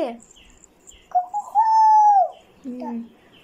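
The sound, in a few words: child imitating a chicken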